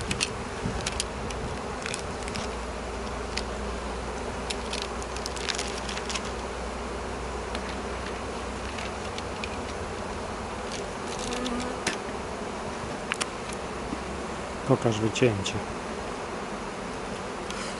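Honey bees buzz steadily in an opened hive of a weak colony during an inspection, a dense constant hum with scattered clicks and knocks of hive handling, and a brief voice near the end.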